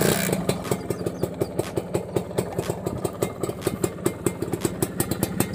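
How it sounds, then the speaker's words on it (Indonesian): An old kick-start-only motorcycle engine in original condition idles close by. It makes a steady, loping putter with evenly spaced sharp exhaust pops, several per second, and no voices. "ya kita nyalakan motornya"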